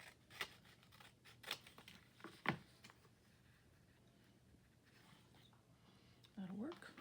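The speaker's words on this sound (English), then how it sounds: "And some scissors." Scissors cutting paper while making a gluebook page, a few short crisp snips spaced apart, quiet and close, with a faint rustle of paper near the end.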